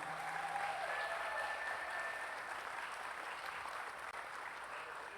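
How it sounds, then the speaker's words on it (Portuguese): Church congregation applauding the worship team after a Sunday morning service, a steady, dense wash of clapping filling the room at even strength, with faint tonal sounds near the start. "Eu queria que os irmãos dessem uma salva de palmas para essa equipe de louvor aqui"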